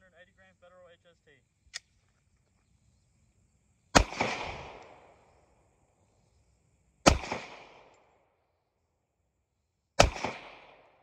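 Three sharp, loud pistol shots from a Glock 22 in .40 S&W with 180 grain Federal HST rounds fire about three seconds apart, each with a short echoing tail, after a faint click and brief low talk.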